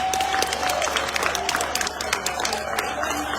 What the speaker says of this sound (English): Clap for that man